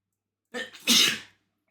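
A single sneeze during a tabletop Dungeons & Dragons session: a short sharp intake followed by a loud, breathy burst, close to the microphone, with no talking over it.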